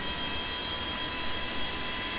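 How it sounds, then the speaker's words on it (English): Jet engine of a Boeing 737-200 spooling up in a flight simulator, parked at Seattle-Tacoma: a steady, fairly loud broadband roar with a thin whine, unchanging and alone. "Okay, it sounds like the engine started up."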